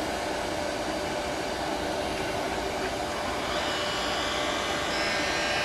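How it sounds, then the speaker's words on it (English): A wood lathe spinning a small spindle project while a 3/8 inch spindle gouge cuts the wood, giving a steady, even broadband hiss and whir that holds throughout. "Now I'm going to switch to a 3/8 inch spindle gouge."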